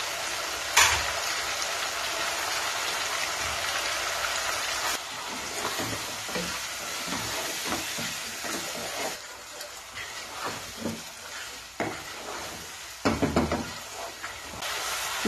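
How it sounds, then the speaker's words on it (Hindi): Spices (salt, cumin powder, red chili powder and coriander) sizzle steadily in a pan of restaurant-style chicken korma cooked in a deg. A close, continuous hiss runs throughout, with occasional scraping stirs and brief louder spits and no talking. "तो यहाँ हमारे मसाले भुन चुके हैं"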